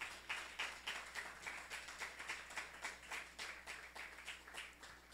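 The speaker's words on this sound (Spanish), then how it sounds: "dele un fuerte aplauso al Señor." Church congregation giving a rhythmic round of applause during a Spanish-language service, steady repeated clapping heard faint and distant.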